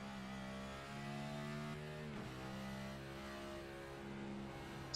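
A race car engine at Watkins Glen climbs through its revs, the faint tonal whine rising and shifting in pitch and briefly dipping around a gear change, steady and distant with no voices.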